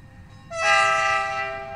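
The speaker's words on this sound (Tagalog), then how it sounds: "the train is passing by" An empty cargo train passes nearby, its horn blaring in a loud sustained blast that rises sharply and then holds steady while slowly fading, with rumbling rail noise underneath.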